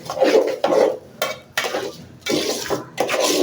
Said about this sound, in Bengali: এখন একটু নেড়ে চেড়ে নিব সুন্দর করে চালগুলো